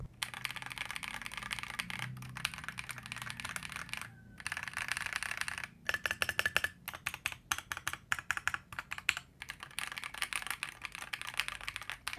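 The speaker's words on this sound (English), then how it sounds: "let's see if the mic can pick up the sound from my" Rapid, continuous typing on a mechanical keyboard with crisp clacking keystrokes and brief pauses, close to the mic, no talking.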